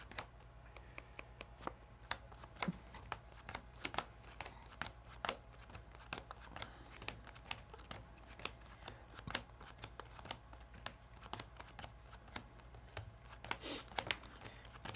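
Cards for the Marvel Champions living card game are shuffled, giving a steady run of quick, crisp riffling snaps close up with no talk over them.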